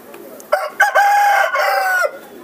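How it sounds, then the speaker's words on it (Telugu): A rooster crows once, loud and close, a long drawn-out call lasting under two seconds over quiet surroundings. "ఇది వచ్చేసి కోడి అనమాట, కోడి పుంజులు ఏదో అంటారు కదా"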